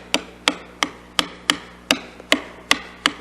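A narrow chisel is tapped while cutting dovetail tails in wood, producing nine sharp, evenly spaced strikes with short ringing decays, steady and close.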